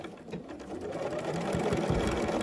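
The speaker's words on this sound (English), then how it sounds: "So starting just above the mask, forward and reverse," A sewing machine runs steadily, stitching forward and reverse across bias tape on a sewn garment pocket, a continuous close mechanical whir with rhythmic needle pulses and no talk.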